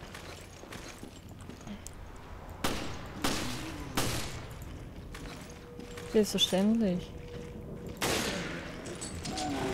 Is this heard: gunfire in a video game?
yes